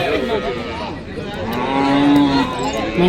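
A cow moos in long, low, drawn-out calls at a cattle market, over a busy background of livestock and people.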